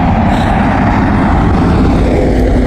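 Cars and trucks roll past on the outback road leaving Uluru, a loud, steady, close traffic roar with rumble filling the whole stretch.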